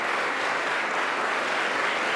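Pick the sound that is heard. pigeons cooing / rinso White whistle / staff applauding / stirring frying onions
staff applauding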